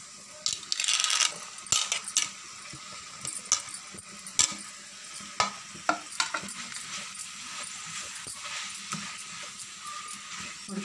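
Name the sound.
broad bean pieces stirred into frying masala curry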